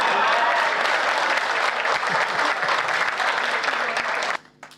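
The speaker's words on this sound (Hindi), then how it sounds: "तालियां सुमित के लिए बजा सकते हैं आप" Audience at a Hindi comedy poetry gathering claps loudly and steadily for a few seconds, the applause ending abruptly into near quiet.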